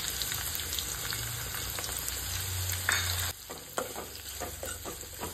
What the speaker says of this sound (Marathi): आतां कांदो लसूण आनी मिरसांग जी आसा पळय न्हू ती आमकां बरी भाजून घेवपाक जाय.